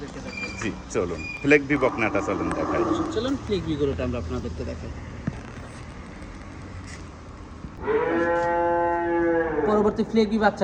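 Cows moo on a dairy farm in Dhaka, with a long, loud bellow near the end and shorter lows earlier, heard under steady talk from people nearby.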